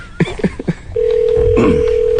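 A voice talks briefly, then a steady continuous phone tone begins on an outgoing call and holds to the end, with more speech over it.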